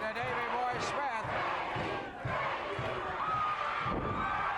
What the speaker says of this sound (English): This crowd has turned totally to Davey Boy Smith.